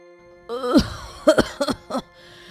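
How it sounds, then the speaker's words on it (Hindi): A woman coughs several times in quick, harsh bursts, close by, with a rough throaty start. "बहुत तेज खांसी हो रही है।"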